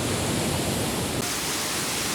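The Sundrawati waterfall roars as a steady, broadband rush of falling water, loud and close, with no break or change over its short span.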